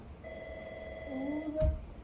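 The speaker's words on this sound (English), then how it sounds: "Oh, the phone's ringing." A telephone rings in a room, a brief electronic ring with steady tones building to a louder burst near the end, with no talk over it.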